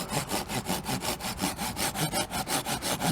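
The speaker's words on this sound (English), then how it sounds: "Just letting the saw do the work, and it's working very well." A folding saw cuts through wood in steady back-and-forth strokes, about four per second, each pass giving a bright rasping scrape, close and loud with no talking.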